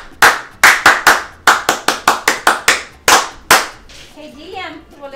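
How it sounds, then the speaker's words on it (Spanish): Audience applause at an event: a dozen or so sharp, loud, evenly spaced hand claps ring out in a fairly small room, then fade into faint background voices. "un aplauso para Gillian"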